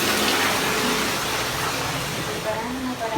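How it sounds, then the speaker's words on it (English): A bathtub fills with water from the tap during preparations for Hurricane Irma, a steady, continuous rush of running water close by that holds at an even level throughout. "So I'm filling up my bathtub with water as we speak before I leave."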